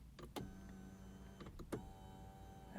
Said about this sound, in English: Ooh, Charlie's going to be happy to see a power adjust steering column.